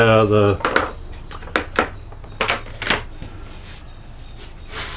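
A carving gouge bites into a wooden lozenge panel in a handful of short, crisp strokes, spaced unevenly and close by, following a brief spoken voice at the start.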